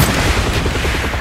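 Loud, nonstop rapid cannon fire from a helicopter's side-mounted gun in Call of Duty Black Ops, a dense, rumbling stream of shots running through the whole moment.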